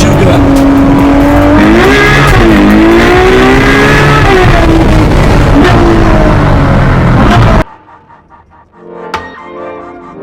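Rolls Royce engine revving hard, a loud rising and falling roar that runs for about seven seconds and then cuts off abruptly, leaving only quiet background noise.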